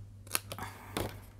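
Scissors snip the corners of folded scrapbook paper, two or three short crisp cuts, close and fairly quiet, over a steady low electrical hum.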